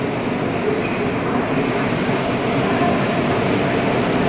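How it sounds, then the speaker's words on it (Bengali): Steady, loud rumble of a passenger train pulling away on an Indian railway line, broadband rolling noise held evenly throughout with no clear clacks or voices. "ট্রেন ছেড়ে দিয়েছে মোটামুটি"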